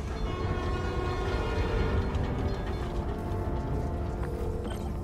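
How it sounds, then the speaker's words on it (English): New York subway train in the Spider-Man Miles Morales video game, a loud, steady rumble of railcars rolling along the track with a clattering mechanical drone throughout. "My trusty New York subway."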